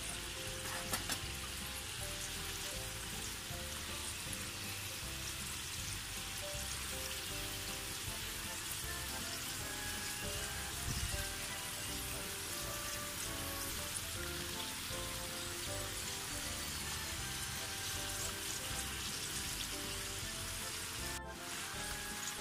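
Meatballs made from a dough without eggs or chicken skin deep fry in hot oil, giving a steady, dense crackling sizzle that runs unbroken and fairly close throughout, with no voices.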